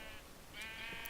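Sheep bleat in the Minecraft video game during a mob battle, a couple of short bleats close together, faint and alone.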